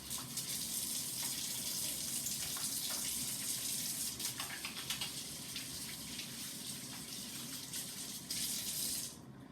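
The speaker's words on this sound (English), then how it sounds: "And then you're going to wash your hands." Running tap water pours steadily into a sink as hands are washed beneath it, a close, continuous splashing gush with slight shifts in texture, no voices, stopping abruptly near the end.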